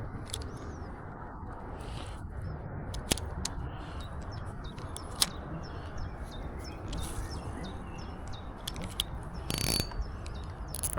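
A BFS fishing reel on a light nano jig rod cranks line back in at a canal after casting a 1 gram jig, with a fine, steady ratcheting clicking close by and faint birds in the open-air background.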